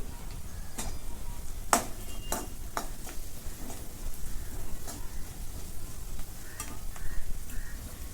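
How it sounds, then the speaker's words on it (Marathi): Bitter gourd with turmeric and curry leaves sautéed in a pan, with a soft continuous sizzle broken by repeated scraping stirs of the spatula against the pan. "आणि हे कारले परतून घेते दोन मिनटं"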